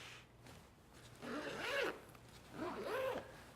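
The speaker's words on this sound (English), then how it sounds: "Buttery zippers." Zipper on a medium Peak Design camera cube being pulled open in two quick drawn-out strokes, close and fairly quiet with no talking.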